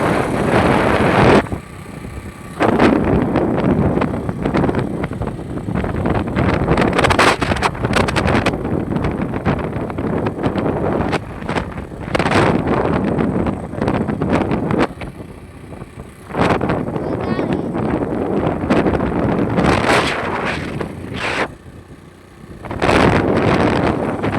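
Hot summer loo wind blasts across the microphone in loud, roaring buffets with a few brief lulls, near a parked car, with no talking.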